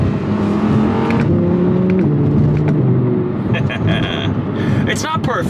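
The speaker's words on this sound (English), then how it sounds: "just listen to how quickly the 7-speed dual clutch shifts" An Audi R8 with a 7-speed dual-clutch gearbox and paddle shifters downshifts; the engine pitch steps through quick gear changes in a loud, close roar, with possible talk over it.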